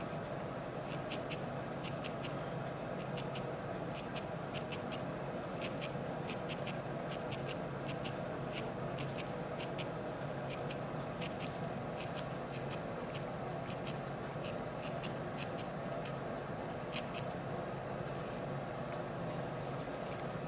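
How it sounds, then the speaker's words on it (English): A felting needle repeatedly pokes into wool, producing quick, faint, irregular clicking taps over a soft steady background hiss, close up and without talking. "poke it with your needle"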